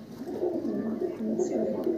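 A pigeon in a loft coos softly in low, rolling repeated phrases, fairly close but faint, with faint ambient loft noise beneath.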